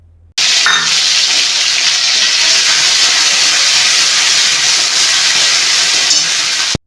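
Spice paste of ginger and cumin with nigella seeds, frying in hot oil for a pumpkin and okra dish, gives a loud, steady hiss and sizzle that starts abruptly and holds evenly until it cuts off.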